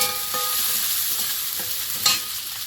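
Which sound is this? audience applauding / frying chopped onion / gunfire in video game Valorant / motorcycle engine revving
frying chopped onion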